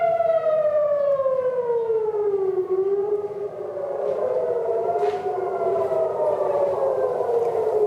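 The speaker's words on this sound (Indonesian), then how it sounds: "Sirine tanda serangan rudal Iran memasuki wilayah Israel kembali berbunyi." A loud air raid siren in Israel, warning of an Iranian missile attack, wails steadily, its pitch slowly falling and rising again, sustained throughout with no voices.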